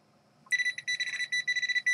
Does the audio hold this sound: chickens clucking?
no